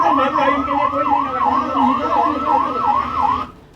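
An ambulance stuck in a traffic jam sounds its siren in a loud, rapidly rising and falling wail, repeating steadily over road noise before cutting off near the end.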